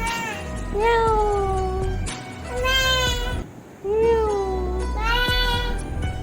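A voice imitates a cat, giving three drawn-out meows in a row, each rising and then falling, close and clear with short gaps between them.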